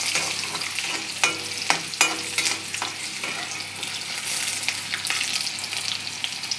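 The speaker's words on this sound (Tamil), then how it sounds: "பூண்டு கொஞ்சம் இஞ்சி போட்டு கொஞ்சம் செவக்கிட்டு வந்துட்டு" Garlic and ginger fry in a pan with a bright, crackling sizzle. Several sharp scrape and stir knocks come in the first few seconds, then the sizzle keeps going without any talk.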